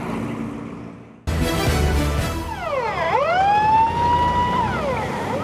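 Loud ambulance siren wailing up and down in sweeping tones, preceded by a burst of noise as it starts, heard close by.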